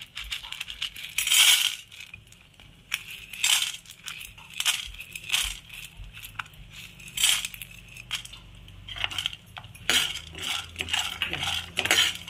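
Chana dal tipped into a pan after other ingredients have been roasted and then stirred as it toasts, giving bright metallic scrapes and clinks in uneven bursts, close and fairly loud, with no voices.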